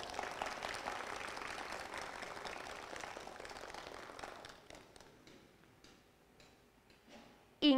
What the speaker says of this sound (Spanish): Demos un fuerte aplauso al Grupo de Bachilleres Promoción 2020